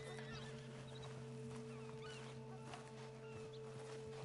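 A horse in the video game Red Dead Online whinnies amid a dense game soundscape of steady ambient hum and scattered small noises, with no one talking.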